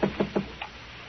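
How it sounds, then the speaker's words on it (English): Three firm knocks on a trailer door, evenly spaced and close, followed by a fainter fourth tap, with no voices. "The door to the trailer was unlocked, and it swung open at my knock."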